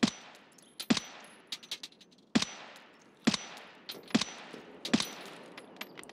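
Gunfire in Escape from Tarkov rings out in sharp, separate shots and short bursts spread irregularly across several seconds, some loud and close, others fainter and more distant.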